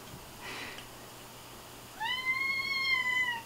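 A house cat meows for food: a single clear, drawn-out meow near the end, close and fairly loud over a quiet room with a faint low hum.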